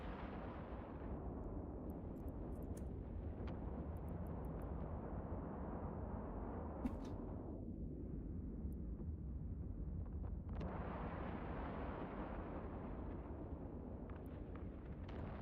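Smart bomb blasts in the space game EVE Online form a continuous loud roaring rumble with a dip midway before the roar swells again, steady and close, with no talk.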